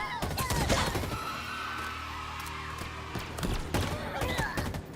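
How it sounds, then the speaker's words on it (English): Gunfire and explosive bursts in the Halo Infinite video game, a chaotic stretch of loud impacts and thuds that peaks near the start and again near the end, with brief game voices mixed in. "As you can tell from that explosion."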